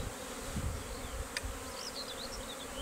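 Honeybees in an opened hive after winter, a steady faint buzzing hum with a few closer individual bees droning past, no talking.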